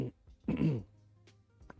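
A single rough throat-clearing cough up close, a short harsh burst followed by quiet breathy sounds.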